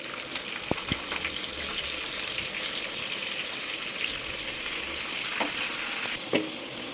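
Chopped onion and green chillies fry in hot oil with mustard seeds for a besan fry, a steady close sizzle with occasional sharp pops and spoon clicks against the pan.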